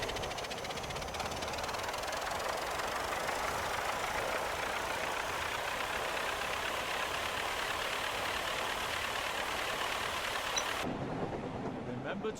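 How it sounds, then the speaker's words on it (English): Steady, continuous rumble and hiss of a Thomas steam locomotive engine running under power in Train Sim World 5, loud and unchanging for most of the stretch before cutting off abruptly near the end. "Use the throttle once again to apply some power to get Thomas moving."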